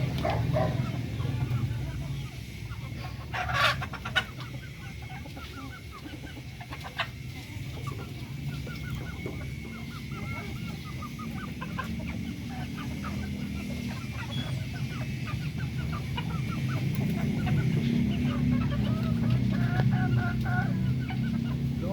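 Chickens cluck continuously at moderate distance, a busy flock chattering over a low, steady background hum.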